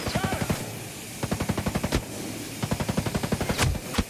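Automatic weapon fire in the Ghost Recon Breakpoint video game, several quick bursts of sharp, evenly spaced shots separated by short pauses, moderately loud against low background noise.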